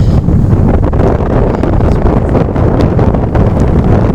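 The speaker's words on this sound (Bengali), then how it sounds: "আকাশের মধ্যে এরকম মেঘ, তীব্র বাতাস।" Strong, steady wind buffets the microphone outdoors under a heavily clouded sky, a loud continuous roar with no pauses and no voices.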